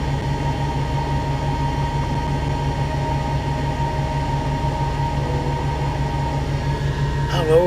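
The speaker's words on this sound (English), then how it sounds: "Oh Lord, I just heard a train." A train rumbles past on tracks right beside a parked truck during a Texas trucking trip, a loud, steady low roar with rolling wheel noise that holds throughout, rising slightly at the very end.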